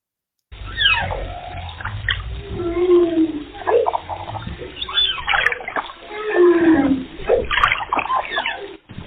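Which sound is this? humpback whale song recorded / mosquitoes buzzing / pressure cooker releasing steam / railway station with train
humpback whale song recorded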